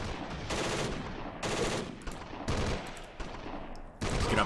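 Machine-gun bursts in the wartime strategy game Close Combat: Cross of Iron on the Eastern Front rattle out as repeated loud volleys of rapid fire, each lasting about half a second to a second, with short gaps between them.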